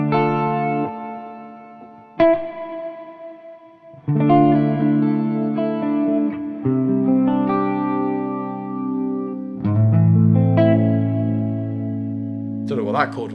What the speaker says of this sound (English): It's just like a really, really big reverb and delay.